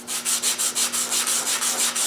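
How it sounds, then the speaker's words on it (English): Miniature segmented wood discs are lightly sanded to remove burrs, giving close, rhythmic back-and-forth scratchy rubbing strokes, about ten evenly spaced passes alone over a faint steady hum. "We just need to sand that burr off lightly"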